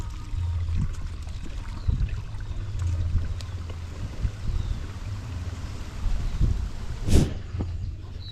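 A small stream flowing beside a farm field murmurs and trickles steadily outdoors, with low rumbling water texture and one brief sharper splash near the end.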